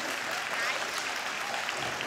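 Brief burst of audience clapping, a dense steady patter of many hands at moderate volume with a few voices mixed in.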